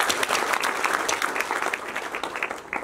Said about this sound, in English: Appreciate our chairman with a clap